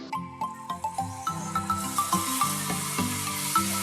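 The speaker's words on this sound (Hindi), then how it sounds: "फ्राई करेंगे, अच्छे से भूनेंगे लहसुन अदरक को" Garlic and ginger paste frying with softened onions in a pan, a steady sizzle with regular metallic clinks of a spoon stirring against the pan, close and continuous.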